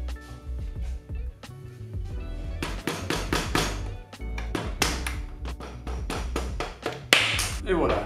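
A rubber mallet taps a BB30 bicycle bottom bracket bearing out of the frame, giving sharp, close knocks in small clusters and quick runs, with a voice talking between and under the blows.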